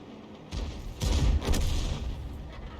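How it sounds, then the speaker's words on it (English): Artillery rounds strike tanks in a tank video game, a couple of heavy, rumbling booms in close succession over a steady battle background, loud and full-bodied, with no talking. "These tanks are losing all their hit points to the Arty rounds."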